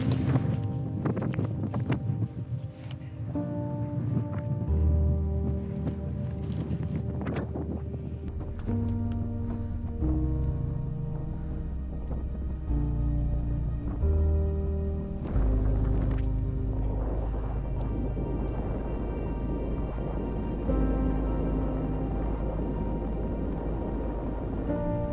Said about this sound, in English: The wind is really picked up,